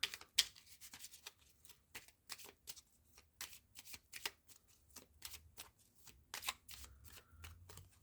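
Making Magic oracle cards shuffled by hand in a quick series of crisp, papery riffles and flicks, close and fairly quiet, with no talking.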